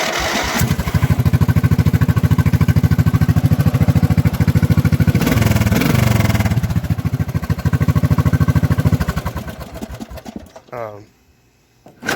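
A small engine runs loud and close with a fast, steady chugging rhythm, then winds down and cuts out near the end.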